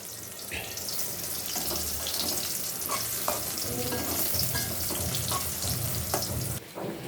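Eggplant slices fry in a pan with oil, a bright, continuous sizzle close up, broken by occasional clinks and scrapes of stirring. Nobody talks.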